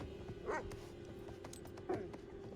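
In Resident Evil 7, a dog whimpers and yips twice in short cries over a steady hum of game ambience, fairly faint and distant.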